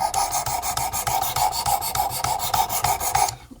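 Felco pruning shears blade stroked across a sharpening stone, a steady run of rasping scrapes in quick regular rhythm, close and fairly loud, stopping just before the end.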